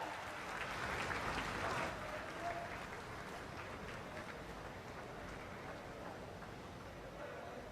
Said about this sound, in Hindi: एक बार जोरदार तालियों के साथ अभिवादन।